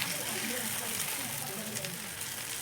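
Semolina and wheat flour batter sizzles steadily in a hot pan, a continuous close frying hiss with soft bubbling that holds even for the whole stretch.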